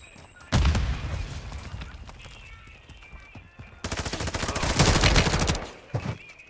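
Bursts of rapid automatic gunfire from a shooter video game, loud and close, with a long sustained volley near the end, heard under intermittent voices.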